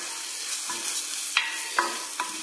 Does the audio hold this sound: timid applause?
no